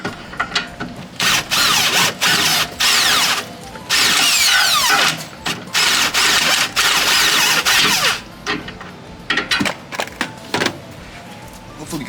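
Power tool whirring in loud repeated bursts as it removes a bolt from the suspension of an Infiniti G37 during a lowering-spring install, with short pauses between runs and a few brief mechanical clunks.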